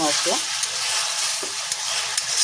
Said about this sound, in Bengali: মশলাটাকে বেশ ভালো করে কষাবো